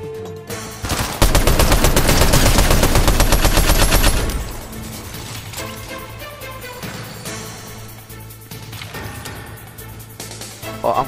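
Rapid automatic gunfire in the video game Fortnite, a loud dense burst of shots lasting a few seconds, then scattered quieter shots and clatter trailing off.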